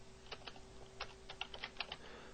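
Keys tapped on a computer keyboard during Flash editing work, about a dozen quick, light clicks in an uneven rhythm, close and fairly quiet with no voices.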